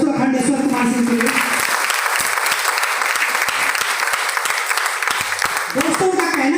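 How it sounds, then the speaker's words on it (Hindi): Loud, dense applause from an audience greeting a client, starting after a moment of speech and sustained as a steady wash of clapping, with a voice briefly audible at the start and near the end. "पहले उस क्लाइंट के लिए जबरदस्त ताली हो जाए दोस्तों"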